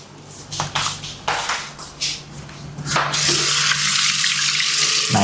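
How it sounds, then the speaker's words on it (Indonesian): Water from a tap runs while hands are washed at a home kitchen sink. A few short scattered sounds come first, then a steady, loud, close rushing stream. "Kita cuci tangan dulu."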